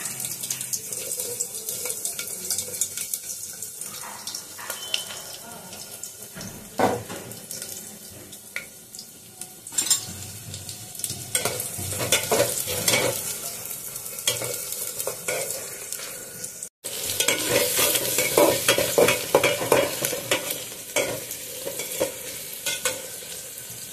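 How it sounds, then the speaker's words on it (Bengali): Onion fries in plenty of mustard oil in an aluminium pot while it is stirred, a steady close sizzle broken by scraping and clattering strokes. "পেঁয়াজটা আমার ভাজা হয়ে গেছে"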